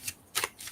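Tarot cards being shuffled by hand, three short papery riffling bursts in quick succession, close and fairly soft.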